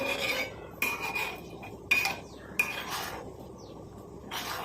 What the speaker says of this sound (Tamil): கை எடுக்காமல் இந்த மாதிரி கிண்டி விட்டுக்கிட்டே இருங்க